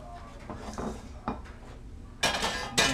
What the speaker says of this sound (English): let me change pans